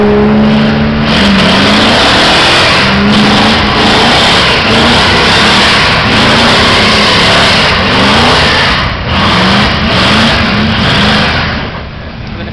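A drag racing car at Azusa launches and drags its tires, making a very loud, sustained engine roar with wavering revs. It stays close throughout and fades slightly at the end.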